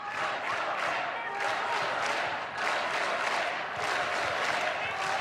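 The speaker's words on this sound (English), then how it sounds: "Fantastic crowd on hand at Fitzgerald Fieldhouse." A crowd at a women's college volleyball match in Fitzgerald Fieldhouse cheers and shouts steadily, a broad distant roar filling the whole stretch with only slight swells.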